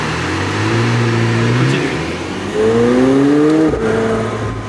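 A Brabus Mercedes G-Class revs on a street in Monaco, its loud engine climbing through two rising surges with a brief drop between them, heard close and without talk.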